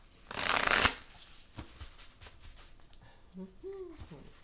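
A quick, loud riffle of shuffled tarot cards bursts out near the start, followed by softer card handling taps and a brief murmur of a voice.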